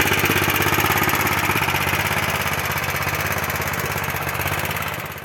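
A BCS walk-behind tractor engine idles as it warms up before mowing alfalfa, a steady, close, loud chugging with fast regular pulses that runs on alone without a break.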